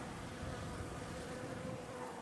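Honeybees buzz around a hive on a mild February day in a New England garden, a steady, close, continuous hum with no talk.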